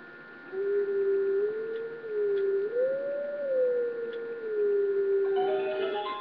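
A single long, wavering wolf howl in The Legend of Zelda: Twilight Princess rises and falls for several seconds, clean and sustained, with a faint electronic hum beneath.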